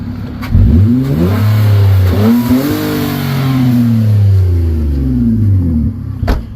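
A Nissan Altima coupe with a 3.5 V6 revs up and settles back repeatedly, its loud, close engine note rising and falling in smooth sweeps with no talking.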